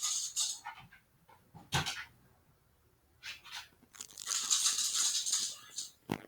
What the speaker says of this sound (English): That bark sounds like a big dog.